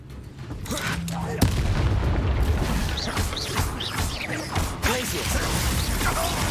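In Hogwarts Legacy, a Confringo fire spell goes off with a fiery boom and crackling blasts amid combat noise, while a voice calls out over the action.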